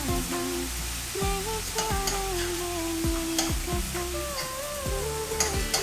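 Ground beef and onions fry in a pan with a soft, steady sizzle and occasional stirring scrapes, under sliding tonal sounds in the background.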